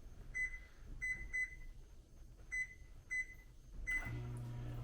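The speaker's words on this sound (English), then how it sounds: "Throw that in the microwave and do the soften melt feature" Microwave oven running on its soften/melt setting, giving a series of short, evenly spaced electronic beeps over a low steady hum, then a louder beep as the door or controls change near the end.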